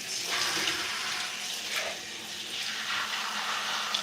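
Lukewarm shower water runs through hair while rinsing curly hair on a shower bench, a steady close splashing hiss that surges and dips as the stream moves, with no talking.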